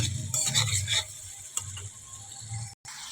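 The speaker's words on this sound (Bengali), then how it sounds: "এবারে মশলাটা একটু ভালো করে কষিয়ে নেব যতক্ষণ না তেল ছাড়ে" Spice masala fries in oil in a pan for a pumpkin, potato and soybean curry, with a spatula scraping and stirring in uneven bursts over a soft sizzle.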